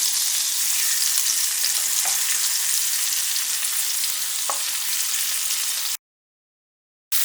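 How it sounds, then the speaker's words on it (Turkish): Sliced onion rings fry steadily in hot oil over low heat, a dense, even sizzle with occasional faint clinks, cutting off abruptly near the end. "soğanlarımız iyice karamelize oluncaya kadar yağımızda kısık ateşte pişireceğiz"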